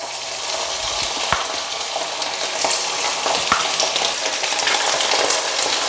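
Chicken wings coated in garlic powder, salt and a little flour sizzle in a pan of hot oil, producing a continuous bright crackling hiss with occasional sharper pops and no voices.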